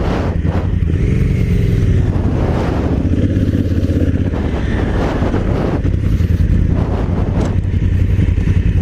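Honda CRF1000 Africa Twin adventure motorcycles ride off-road on a trail at Lytle Creek, their engines loud and close, droning and revving steadily with wind buffeting.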